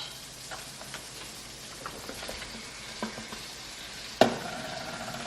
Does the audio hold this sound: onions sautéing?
yes